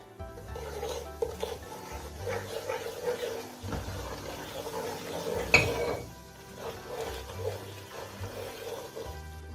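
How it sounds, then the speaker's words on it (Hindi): Gram flour (besan) tipped into a hot pan and stirred for mithai, with soft scraping and clinks of a spoon against the pan, one sharper knock midway, all under faint kitchen background noise. "अब मैं अपने इसमें बेसन डाल रही हूँ।"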